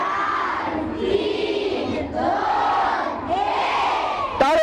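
A packed audience at a quiz-style stage event roars and cheers together in loud, sustained shouting voices that rise and fall, ending in a sharp burst of noise.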